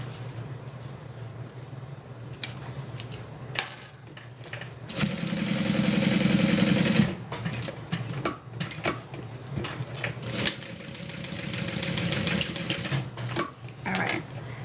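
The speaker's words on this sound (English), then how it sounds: "let's go ahead and stitch these in place." A home sewing machine stitches a zip-around wallet in short runs, with a louder sustained burst of stitching in the middle and quieter mechanical handling sounds between runs.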